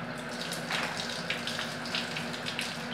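A shower runs in a bath, a steady close rush of water spraying and splattering, with brief louder splashes and a faint low hum underneath.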